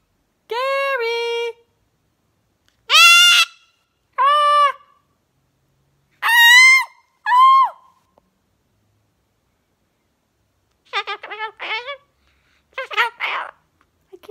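Cockatoo kept as a pet, calling in a series of loud, harmonic squawks and drawn-out cries, then a burst of quicker, rougher chattering calls near the end, with short silences between, close to the microphone and no talking.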